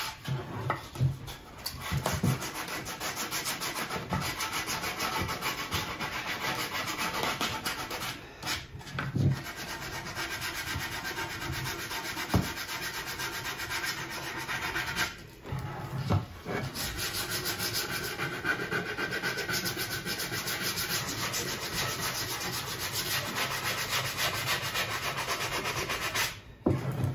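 Sandpaper rubbed by hand over a wooden Firebird model kit body, a steady continuous scratchy rasp lasting throughout with a few brief pauses between strokes, close and fairly loud.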